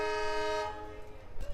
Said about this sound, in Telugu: మన ట్రైన్ అయితే రామేశ్వరం నుండి బయలుదేరుతుంది